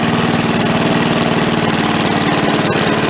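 A worn MTD push mower engine running throttled up, a loud, steady, close chugging drone with rhythmic pulsing and a slight knock, with no voices.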